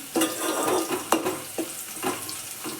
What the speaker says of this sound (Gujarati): લસણ કળીને આપણે તેલમાં ચડી નાખી ચડી રહેવા આવ્યું છે